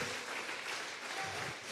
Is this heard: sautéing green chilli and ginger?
no